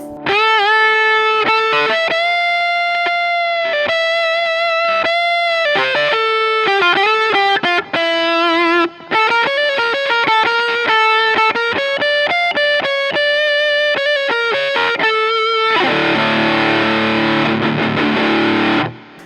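Electric guitar through a distortion pedal with tone set around one o'clock, playing a smooth, creamy sustained lead melody, loud and close, notes gliding and bending before a final strummed chord that rings out.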